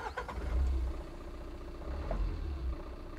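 A Tata Intra V30 BS6 pickup's engine is started with the key, a short cranking burst settling into a steady low idle rumble, close and fairly quiet, with no talking.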